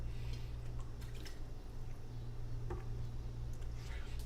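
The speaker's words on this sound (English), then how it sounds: "I'm gonna drink water." A person takes a drink of water indoors, producing faint, close swallowing and liquid sounds over a steady low hum, with a few soft clicks and no talking.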